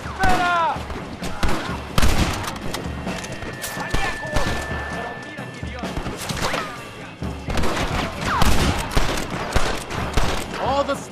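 Rapid gunfire crackles in a Red Dead Redemption shootout in Nuevo Paraiso, dense bursts of shots and ricochets rolling nearly nonstop, with characters shouting over the battle.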